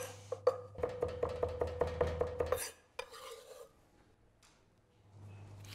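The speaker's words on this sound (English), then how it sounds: "So I'm gonna start by cutting my onion." An onion being chopped for salsa verde on a board: about a dozen quick, evenly spaced knife taps close by, then a knock and quieter handling sounds with a background hum.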